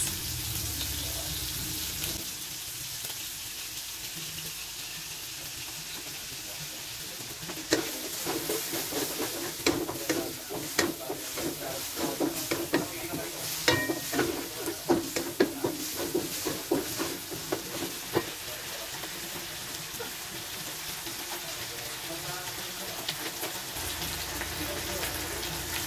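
Gising gising with oyster sauce and beans is stir-fried in a pan: a steady sizzle runs throughout, with busier stirring and scraping clatter in the middle section.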